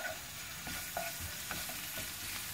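Garlic frying in a pan for a stir-fry of asparagus with pork liver, a steady close sizzle broken by a few soft stirring scrapes, with no talking.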